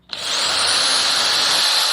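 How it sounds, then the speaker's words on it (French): A power drill fitted with a bit and countersink drives into wooden planks during garden shed building, starting with a click and holding a loud, steady high whine for nearly two seconds before stopping abruptly. "je mets une mèche avec une fraise à noyer au bout."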